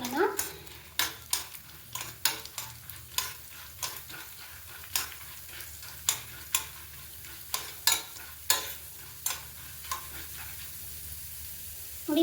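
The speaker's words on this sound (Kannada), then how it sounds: "ಕಡಲೆಬೇಳೆ ಹಾಕ್ಕೊತಾ ಇದ್ದೀನಿ. ಇದು ಅಷ್ಟೇ ರೋಸ್ಟ್ ಹಾಕಬೇಕು." Chana dal (Bengal gram) being stirred and roasted in a pan, a steady run of sharp scraping clicks from the spoon against the metal over a low, quiet sizzle, close and fairly soft.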